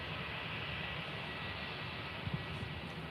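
A distant, steady roar from a United Boeing 757 jet airliner at Faro Airport, heard early in the morning as a faint, broad rumble that holds throughout with no talking.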